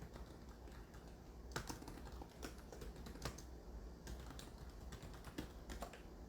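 Keystrokes on a computer keyboard while entering text into an Excel spreadsheet, quiet and close, with irregular bursts of clicking and brief pauses and no voice.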